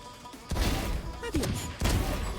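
Gunfire in a Valorant match on the Breeze map comes in three quick bursts, loud and close, with a player's voice faintly underneath.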